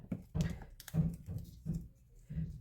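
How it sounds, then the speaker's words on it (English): Paper card being folded along score lines with a bone folder, a series of soft crisp rubbing and pressing strokes at a steady pace, close and quiet with no talking. "So we're going to fold these on the score lines as well. Again, use our bone folder"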